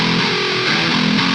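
Distorted metal guitar harmonic shot upward in a dubstep-style pitch glide, a loud sustained tone with wobbling pitch steps, ending abruptly.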